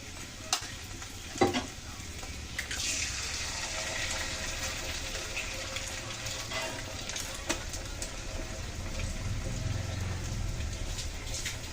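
Egg poured into oily frying cauliflower and potato bhaji sizzles loudly while a spatula stirs and scrapes the pan, with a few sharp clinks near the start.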